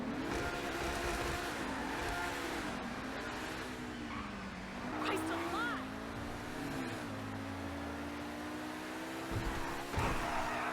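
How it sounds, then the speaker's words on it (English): A high-pitched Torero XO supercar engine in GTA Online wails steadily, its tone wavering up and down as it revs, with a few sharp bursts over the continuous drone. "it's just got that like classic high pitched supercar sound"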